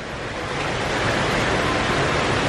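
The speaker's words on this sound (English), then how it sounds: "it's now absolutely pouring down" Heavy rain pours down in a town centre in Hua Hin, Thailand, as a dense, loud, unbroken hiss that swells slightly, with no voices.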